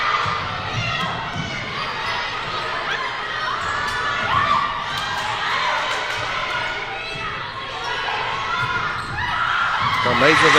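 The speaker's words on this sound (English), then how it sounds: "both benches are clapping for that point" Players on both benches clap after a point in a college volleyball match, a steady patter of applause with crowd noise and shouting, under a commentator's talk throughout.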